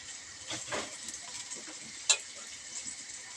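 Eggplant frying in a pan as it is mixed and stirred, a faint continuous sizzle with soft scraping strokes and one sharp clink of the utensil against the pan, close but quiet, no talking.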